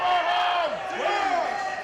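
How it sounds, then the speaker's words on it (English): A wrestling crowd at a lucha event roars and whoops for Mr. Thunderbolt, a dense, loud wall of cheering with rising and falling shouts throughout. "Mr. Thunderbolt getting this crowd going"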